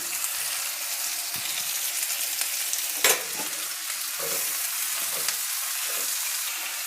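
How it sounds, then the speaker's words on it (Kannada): Onion and capsicum frying in hot oil in a pan for a quick gravy, a loud continuous sizzle with occasional stirring and a single sharp knock partway through; no talking. "ಈರುಳ್ಳಿ ಸೇರಿಸ್ತಾ ಇದ್ದೀನಿ ಈಗ ಅದ್ರ ಜೊತೆಗೇ ಕ್ಯಾಪ್ಸಿಕಮನ್ನು ಸೇರಿಸ್ತಾ ಇದ್ದೀನಿ"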